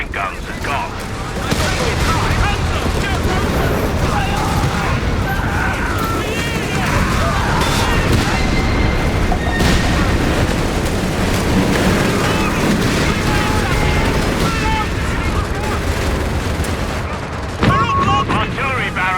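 An artillery barrage in Company of Heroes 3 pounds continuously, with dense booms and rolling gunfire layered over battlefield noise, loud and close, while voices call out over the din.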